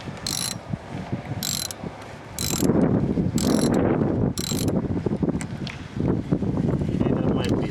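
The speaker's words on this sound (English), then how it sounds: "Just put the socket on the other one. We're going to loosen that up." Ratcheting socket wrench loosening a terminal nut on a Toyota car battery, a run of quick metallic clicks in bursts, close up, with some wind noise across the microphone.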